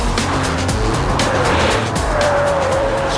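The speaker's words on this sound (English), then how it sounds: "Right, so next up is the BMW 530 Sport." A BMW 530 Sport driven hard around a test circuit: a loud, continuous engine roar close by, with brief tire squeals laced through it.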